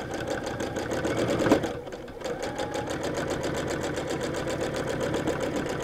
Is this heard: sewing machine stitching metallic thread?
yes